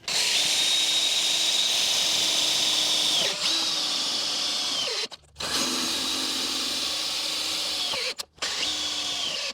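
A power drill drives screws to mount a Stone Stomper bracket on a Kaymar rear bar. A close, loud, steady whine runs in long pulls, with two sharp pauses between them.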